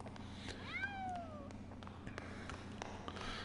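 At the cat races in Grim Fandango, a single rising-and-falling cat meow sounds clearly near the start over a low ambient hum, followed by faint taps and background noise.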